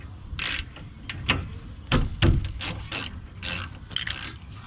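A ratchet working loose the 17 mm brake caliper slide pin on a 2004 Lexus ES330 gives close, crisp bursts of rapid clicking, separated by short pauses and a few heavier knocks.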